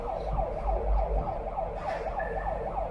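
A wailing siren sounds from a delivery van at an Amazon loading station, rising and falling steadily and loudly over a low engine rumble, with no talking.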